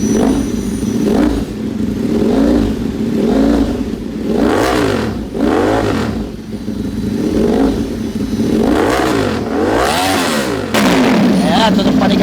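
A Ducati Panigale motorcycle fitted with a custom dual exhaust revs repeatedly, loud and close, in a series of rising and falling throttle blips, with voices heard over parts of it.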